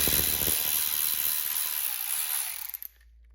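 A ratchet undoing an 8 mm nut on a Suzuki DRZ400SM turn signal, giving a fast continuous whirring, clicking spin that stutters and stops near the end, close and without talk.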